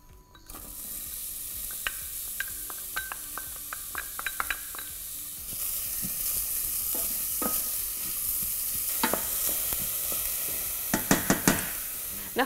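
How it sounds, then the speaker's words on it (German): Onions frying in olive oil in a pot for risotto, a steady broadband sizzle that starts loudly after a brief quiet opening, with sharp clinks and scrapes of stirring scattered throughout, clustered near the end. "Für das Risotto gebe ich jetzt etwas Olivenöl in den Topf. Dann gebe ich die Zwiebeln dazu."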